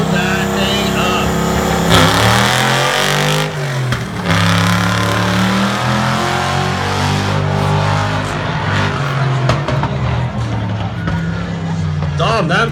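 An off-road buggy engine revs hard at a Tuff Trucks competition in Lebanon, Oregon, a loud, continuous rising and falling roar with harmonic sweeps. Commentators talk over it throughout.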